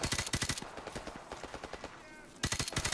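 Rapid bursts of automatic gunfire from American weapons in Call of Duty 4: Modern Warfare Remastered, a quick rattling volley of shots that eases slightly in the middle before another loud burst near the end.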